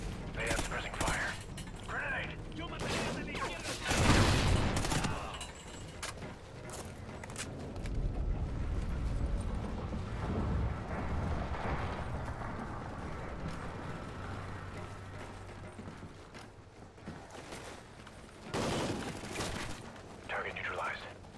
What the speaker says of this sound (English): Contact 20 meters. They have suppressing fire.